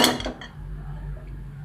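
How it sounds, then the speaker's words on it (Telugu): A cooking pot set down on a stove while making gongura chicken: one sharp metallic clatter at the very start, then a low steady hum with no talk. "గిన్నె పెట్టుకుందామండి"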